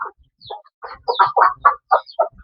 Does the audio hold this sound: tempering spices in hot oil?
no